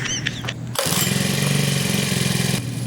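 A small grass cutter engine sputters a few times, then catches and settles into a loud, steady buzzing idle close by.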